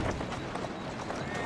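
Horse hooves clip-clop at a quick, even trot on a street in the Victorian London game Assassin's Creed Syndicate, close and moderately loud, with a voice talking over the rhythmic steps.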